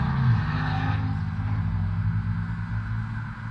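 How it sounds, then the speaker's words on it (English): A loud car passes outside, its engine a heavy low rumble that swells early and holds steady throughout, close and dominant with no talk over it. "that car is loud"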